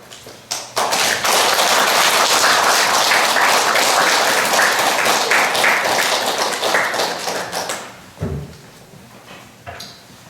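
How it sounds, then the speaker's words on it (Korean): Loud, sustained applause from a church congregation at a deacons' seminar, welcoming a speaker; thick continuous clapping rises sharply, holds for several seconds, then tapers into a few isolated claps and thumps. "우리 뜨거운 박수로 격려해 주시기 바랍니다."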